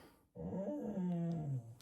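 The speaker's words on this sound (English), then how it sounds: "I'll just let the dog out." A single low, rumbling dog growl close to the microphone, rising then holding for over a second before trailing off.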